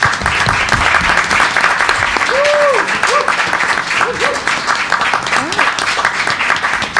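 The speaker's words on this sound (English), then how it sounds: "Let's give him a round of applause." A loud, sustained round of applause from an audience welcoming a Junior Air Force ROTC program guest, dense clapping mixed with scattered whistles and cheers throughout.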